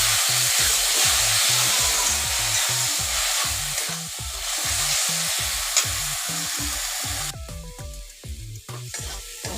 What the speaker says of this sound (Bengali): এবার দিয়ে দেবো মশলাটাকে আর ভালোভাবে ফ্রাই করে নেব